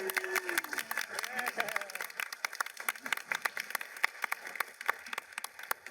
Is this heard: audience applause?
yes